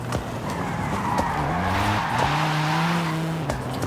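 A racing car engine in the video game Forza Horizon 5 revs and shifts pitch continuously while tires squeal and skid, loud and close, with no talking.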